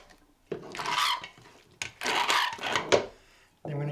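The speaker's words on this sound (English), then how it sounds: "Just give it a stir." Refried beans being stirred in a pot, giving bursts of scraping and mushy rubbing strokes with short pauses between them, close and fairly loud, with no talk over it.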